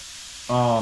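Mushrooms and venison browning in a pan give a brief, steady close sizzle before a voice starts talking over it.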